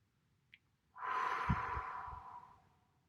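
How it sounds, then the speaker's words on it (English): A single slow, relaxed breath with a faint nasal inhale followed by a long, airy exhale through the mouth, close and quiet with no talking. "What I like to do is breathe in through the nose. It engages the upper centers of the body, and exhale through the mouth."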